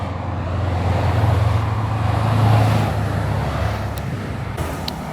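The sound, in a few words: group of vintage Porsche cars driving past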